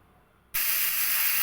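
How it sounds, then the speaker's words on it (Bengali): Pressure cooker whistle bursting into a loud, steady hissing jet of steam after a quiet moment, while chicken curry cooks on low to medium heat; no talking. "লো টু মিডিয়াম আছে 2টো সিটি দিয়ে নেব।"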